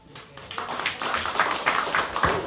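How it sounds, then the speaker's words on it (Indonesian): A small group claps together at a church council family gathering at a villa, a steady, moderately loud patter of many hands that builds slightly over a couple of seconds. "Tepuk tangan"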